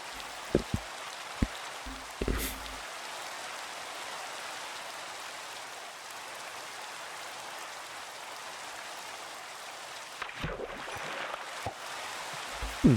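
Rain in the video game Minecraft falls in a steady, even hiss for the whole stretch. A few soft clicks and taps sound over it, and nobody speaks.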